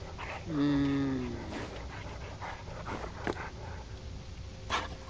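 A dog pants rapidly and steadily in the Dead by Daylight video game, faint under busy game noise with a brief whine near the start and scattered thumps.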